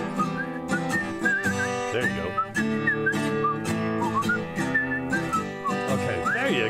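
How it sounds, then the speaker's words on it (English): A person whistles a melodic tune continuously, clear and close, with sliding pitch changes and steady phrasing. Backing music plays underneath, and a brief spoken phrase comes near the start. "This is a whistling part you're supposed to do."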